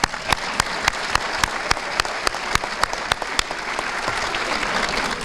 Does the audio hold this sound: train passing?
no